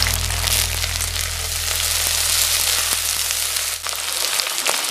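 Ginger paste sizzling in a pan with cashews for Bengali Gobindobhog rice pulao: a constant bright frying hiss over a low steady hum, close and fairly loud, with small crackles and no talking.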